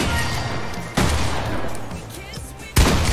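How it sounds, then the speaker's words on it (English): Fortnite gunfire sounds as dense bursts of shots with sharp onsets, loud and close, under a voice that speaks over the shooting. "Why are you shooting me?"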